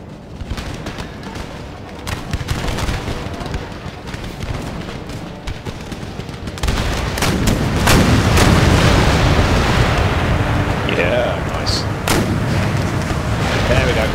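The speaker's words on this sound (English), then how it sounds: "Well, one more canister volley, I think," Cannon volleys boom from an Empire: Total War battle, heavy layered artillery blasts and gunfire rolling continuously and loud, intensifying partway through with dense crackling bursts.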